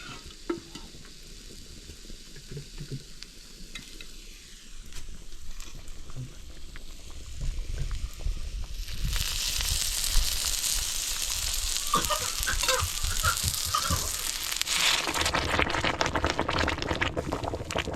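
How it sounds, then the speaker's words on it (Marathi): Garlic tempering crackles and sizzles loudly in hot oil, cooked over a traditional wood-fired chulha for a crab curry. The frying grows louder partway through and stays as a dense, steady hiss with popping, and no one talks. "पाहू शकाल उकळी कशा प्रकारे फुटते पूर्ण तडका बसतोय त्या लसूणचा"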